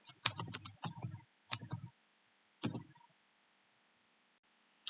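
Short bursts of typing on a computer keyboard, quick clusters of soft key taps close to the microphone, broken by quiet pauses and ending in a single click.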